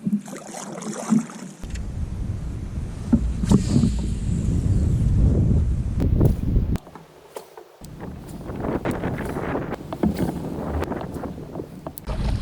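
Strong wind buffets the microphone on a lake while boating, giving loud, gusty rumbling that rises and falls in bursts with brief lulls between gusts.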